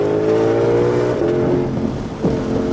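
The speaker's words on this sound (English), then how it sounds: "as that wheel straightens out, give me a nice shot of power." A Ford Shelby Mustang GT500 on the Palm Beach International Raceway track, its engine loud and close, a steady drone rising in pitch as it accelerates, easing briefly, then climbing again.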